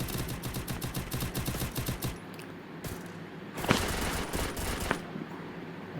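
Rapid automatic gunfire in the mobile video game Free Fire, a steady loud stream of shots for about two seconds, then a pause and a second burst of fire with sharp cracks, no voice over it.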